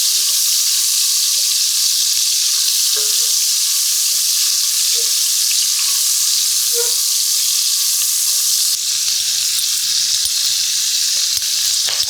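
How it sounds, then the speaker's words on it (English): Onions frying in a hot Demeyere pan, a loud continuous close sizzle with a few faint clinks of stirring, steady throughout with no talking. "I'm gonna go ahead and put my onions in here."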